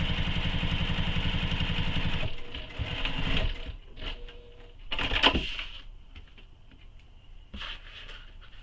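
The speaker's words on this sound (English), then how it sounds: "we're top stitching along that seam" Home sewing machine top stitching a seam on a fabric tote bag, a fast steady motor whir for about two seconds, then scattered clicks, handling and fabric movement with short bursts of activity.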